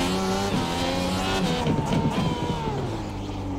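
Race car engine in the iRacing sim at Long Beach, a loud continuous high-pitched drone with shifting harmonics, revving and changing pitch as it hits the limiter and drops through gears, with a brief tire-squeal-like burst.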